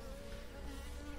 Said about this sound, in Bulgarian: Почнаха пчелите да облитат, но осите и те са наредени.